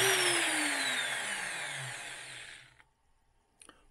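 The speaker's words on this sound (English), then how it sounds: "Lock the drill on." A power drill whirs loudly, its pitch sliding steadily downward as it spins down over a few seconds, then stops, leaving a couple of faint clicks.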